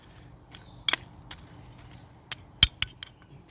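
A bit of glass clinks in dry garden soil on an allotment plot. Several sharp, bright clinks and taps come at irregular intervals against quiet background noise.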